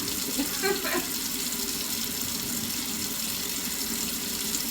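Water running steadily from a kitchen tap for boiling sweet potatoes, a continuous close rushing stream with a couple of brief clinks early on, no talking.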